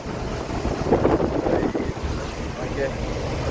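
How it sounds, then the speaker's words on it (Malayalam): Wind gusting across a misty hill road with mist rolling over it, a steady broad rush that swells in the middle and then eases. "അതിൻ്റെ കൂടെ നല്ല കാറ്റുമുണ്ട്"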